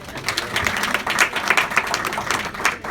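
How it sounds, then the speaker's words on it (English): An audience at a CBD community awareness presentation claps for Dr. Marilyn Corder, brisk, fairly loud applause with distinct individual claps standing out over the crowd, without talking. "Dr. Marilyn Corder, let's give her a round of applause"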